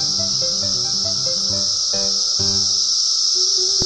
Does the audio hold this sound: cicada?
yes